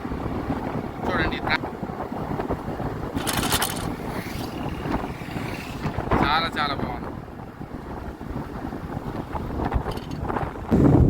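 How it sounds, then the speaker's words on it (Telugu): Strong wind at Pamban Bridge roars and buffets the microphone throughout, with a person speaking briefly over the steady gusting noise. "సో విపరీతమైన గాలి అండి"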